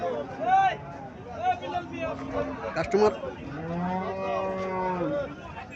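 Sahiwal cattle moo repeatedly, several drawn-out lowing calls close by, over a busy background of people talking at a cattle market in Cumilla.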